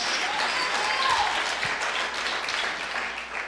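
A church congregation breaks into loud, sustained applause for preachers during a sermon, a thick wash of clapping that swells briefly and holds steady to the end.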